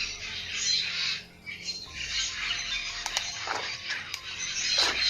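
Birds squawk and chirp in shrill, high bursts, fairly close, with a few sharper calls near the end.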